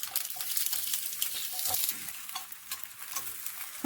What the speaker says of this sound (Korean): 먼저 떡갈비를 좀 구워봐야 돼요